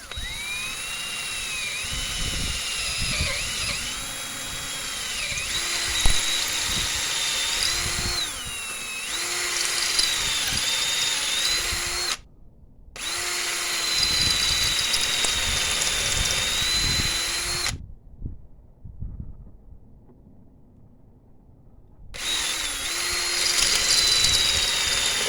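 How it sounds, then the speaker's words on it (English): A power drill whines at high speed while drilling out a stripped injector bolt hole on a 2009 Mercedes C220 CDI, running in long bursts separated by brief stops and a longer pause before starting again. "So let's drill this one out."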